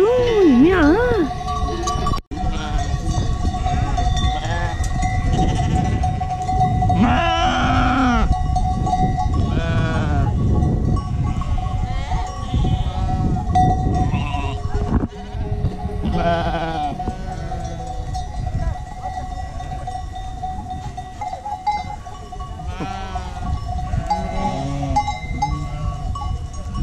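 A flock of sheep on transhumance through Valladolid, Spain, wearing cowbells and guarded by mastiffs: a dense, continuous clanking of many bells with occasional bleats, close by, while people talk throughout.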